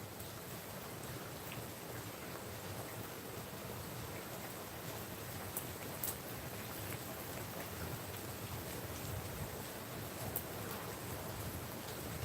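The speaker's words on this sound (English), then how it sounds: "That's the perfect steady rain that I like. Not too light, not too strong." Steady rain falling continuously at moderate strength, a dense even hiss with scattered drop ticks and no voices.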